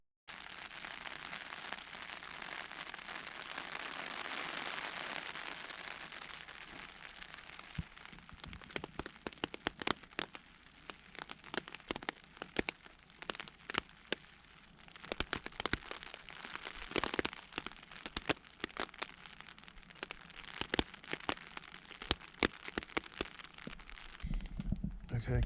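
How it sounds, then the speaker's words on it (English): Rain pattering on a tarp over a hammock at a solo wild camp at night, with a steady hiss and a dense scatter of sharp, close drops striking the fabric throughout. "the wind has been blowing the rain underneath my tarp onto my head"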